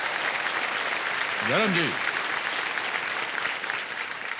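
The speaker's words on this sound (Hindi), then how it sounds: "बट एक बार जोरदार तालियां हो जाए बच्चन साहब के लिए" A studio audience on the KBC quiz show applauds for Bachchan, steady dense clapping throughout, with a voice speaking briefly over it midway.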